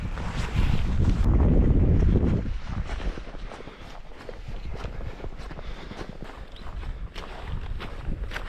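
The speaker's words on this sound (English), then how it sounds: "This wind's killing me." Strong winter storm wind roars in loud, broadband gusts around a snowy camp near trees, peaking early then easing into a steady, buffeting rush against the microphone.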